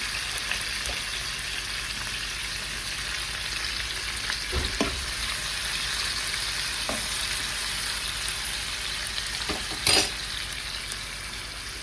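Onions fry in a pan for a capsicum egg curry, a constant close sizzle with occasional scraping stirs and one louder clack near the end.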